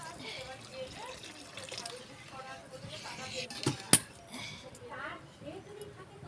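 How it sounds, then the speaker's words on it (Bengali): Water pours into a cooking pot of sabu khichuri, a soft continuous splashing stream with a sharp clink near the middle, heard close and moderately loud. "জল দিচ্ছি।"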